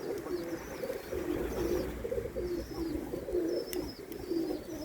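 Pigeons cooing outdoors on a windy summer evening, repeated soft rolling coos close by with a faint chirp, over a steady background of wind noise.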